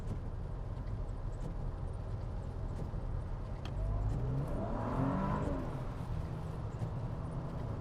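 A Mercedes C32 AMG with an aftermarket airbox upgrade accelerates hard on a wet road, its engine note rising in pitch and swelling midway before settling, heard from inside the car over steady road and tire noise.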